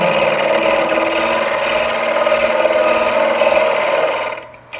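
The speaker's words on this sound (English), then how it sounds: "you can see we can cut a tenon just as easy" On a wood lathe, a parting tool cuts a tenon into spinning wood, giving a continuous, even scraping and rasping whir. It stays close and steady for several seconds, then stops abruptly at the end.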